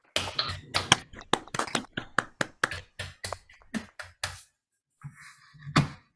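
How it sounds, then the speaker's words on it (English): Scattered hand claps from attendees unmuting on a Zoom call for a board of directors at an annual meeting, about a dozen sharp separate claps in an uneven rhythm, then a pause and a couple of softer sounds. "We can all now unmute for a well-deserved round of applause for our board of directors"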